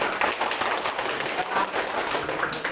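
Classroom applause for a student group, a dense, steady patter of many hands clapping together with voices mixed in.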